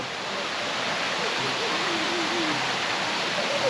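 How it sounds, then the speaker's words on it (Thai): A steady, broadband rush of a waterfall fills the scene, with a faint voice briefly audible beneath the constant roar. "ฝั่งนู้นเป็นน้ำตกด้วย"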